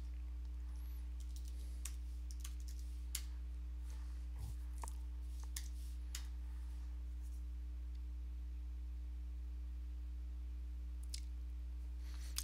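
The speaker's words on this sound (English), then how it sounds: "I'm just going to type in superuser apt install" Quiet, scattered keystrokes on a computer keyboard as a terminal command is typed on a Linux machine, sparse clicks spread over the span above a steady low electrical hum.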